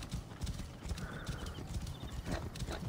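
Horse hooves clip-clop in a quick, steady trot in Assassin's Creed Origins, with a faint whinny partway through and light ambient background around the rhythmic footfalls.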